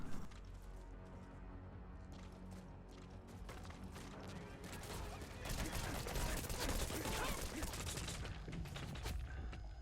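Dense gunfire in the video game Metal Gear Solid V, many bullets cracking in a continuous fusillade that swells louder partway through, with game sounds layered underneath.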